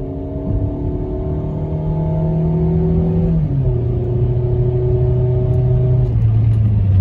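A 2006 Kia Spectra accelerates on a road, its engine note climbing steadily through the gears with one audible shift midway, heard loud and close from inside the car.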